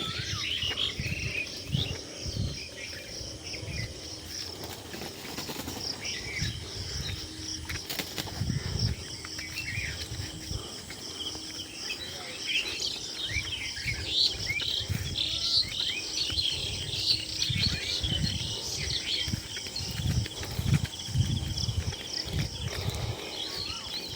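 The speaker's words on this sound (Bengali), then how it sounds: "সকালবেলা মনোরম পরিবেশে কত সুন্দর সাউন্ড পাখিদের শোনা যায়" Many small birds chirp and trill in a dense, continuous outdoor chorus on a morning by a fishery pond, with a steady insect buzz and low rumbling underneath, no talking.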